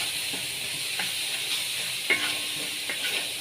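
Egg curry masala sautéing in a pan gives a steady close sizzle and hiss, with a few soft scraping stirs of a spatula on the pan and no voice.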